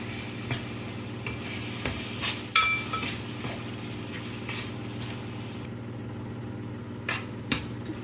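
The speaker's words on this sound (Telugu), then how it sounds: "ఇప్పుడు ఇది బాగా కలుపుకొని ఆయిల్ పైకి వచ్చేంత వరకు మగ్గనివ్వాలి." Cashew and tomato curry cooking in oil in a pan, stirred steadily: a continuous low sizzle runs throughout, broken by several spoon scrapes and light clinks against the pan, with no talking.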